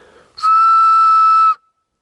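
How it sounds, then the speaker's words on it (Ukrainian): A single loud, steady whistle made by blowing across a spent WWII cartridge case found in the Carpathians, one clear piercing tone lasting about a second. "Ось так свистить гільза."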